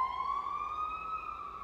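An ambulance siren wails in a single sustained, fairly loud tone that drifts slightly upward in pitch and holds steady for under two seconds, with no talk over it.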